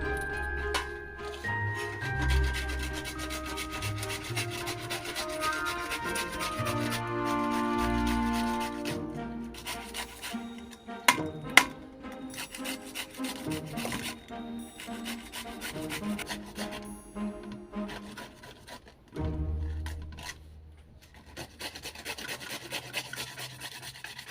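A peeled papaya is scraped and rubbed over a grater in a steady, rasping rhythm close up, continuous throughout with small pauses and a background of faint tonal sounds.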